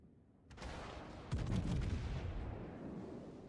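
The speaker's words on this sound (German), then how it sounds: "Jetzt habe ich auf die Monarch geschossen." Battleship guns in a World of Warships naval battle fire at a Monarch with a deep booming salvo that rolls on, followed by a second heavy thump and a long rumbling tail.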